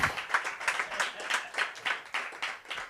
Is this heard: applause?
yes